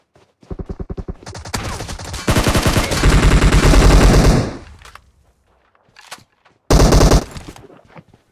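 Automatic gunfire in a competitive shooter game, with rapid bursts and a long sustained spray, then a brief pause and a final short burst, loud and close with no talking.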